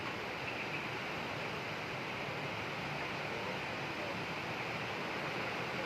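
Floodwater in a flooded street on Jalan Mangkubumi, Aur, Medan Maimun, a steady broad rushing wash of water throughout, moderately loud and continuous, with no talk.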